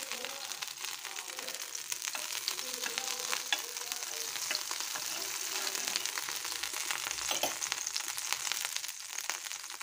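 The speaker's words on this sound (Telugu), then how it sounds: "ఇలా మనము వెన్న వేసుకుని ఫుల్ అంతా స్ప్రెడ్ చేసుకుందామండి వెన్నను." Butter melting and spreading across a hot pan on the stove before bread slices go in, a steady soft sizzle and crackle running continuously throughout, close and even.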